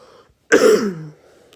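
A single short, throaty cough or throat clearing from a person getting over the flu, close and fairly loud, with near silence on either side.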